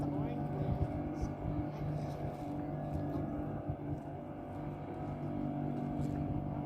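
A motorboat tender from a catamaran runs its outboard engine at steady revs in a bay during a hurricane, a low droning hum heard at a distance with faint talk nearby.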